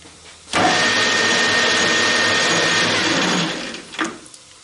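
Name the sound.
lathe cutting with new small blade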